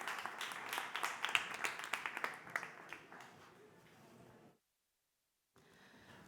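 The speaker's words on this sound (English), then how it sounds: "Give them a big round of applause." Scattered applause from a conference audience greeting a panel coming on stage, with distinct individual claps that taper off into quiet room tone before a short gap.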